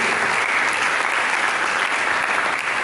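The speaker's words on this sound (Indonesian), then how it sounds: "Mari kita sambut dengan tepuk tangan yang meriah." A church congregation breaks into loud, sustained applause after a call to praise, a dense steady clapping that fills the whole few seconds with no speech over it.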